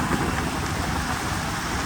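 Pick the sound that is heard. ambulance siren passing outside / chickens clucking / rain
rain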